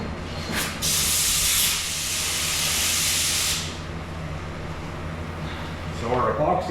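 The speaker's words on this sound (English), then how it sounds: "So our epoxy primer, pretty basic, just a good even coat over all the bare metal." A spray gun lays epoxy primer over bare metal in a loud, steady hiss of a few seconds, followed by quieter handling noise and a second short burst of spray at the end.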